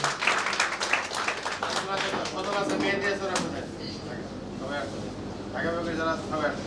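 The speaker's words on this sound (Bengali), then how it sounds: "আমরা করতালির মাধ্যমে সবাইকে শুভেচ্ছা জানাবো।" An audience at an Independence Day discussion meeting claps to welcome dignitaries being greeted with flowers. The applause is mostly in the first half and voices talk over it.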